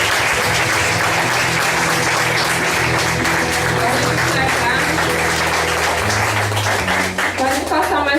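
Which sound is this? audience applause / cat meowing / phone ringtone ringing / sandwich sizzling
audience applause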